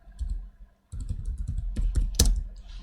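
Rapid clicking keystrokes on a computer keyboard, close and clear, coming in short bursts with a brief pause before a denser run of taps.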